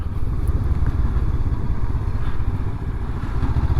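A 2023 Honda CB500X engine runs steadily in third gear at about 17 mph on a cold day, a loud, close, even low rumble with a slight mechanical clatter, alone for the whole clip.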